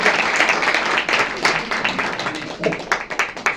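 A church congregation claps during a Sunday service, a loud, close burst of many hands with uneven, rhythmic accents throughout.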